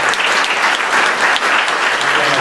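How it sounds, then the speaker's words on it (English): Town hall audience in Montgomery County breaks into loud, sustained applause, a dense wash of clapping hands that holds steady for the whole few seconds with no voices on top. "give him a round of applause"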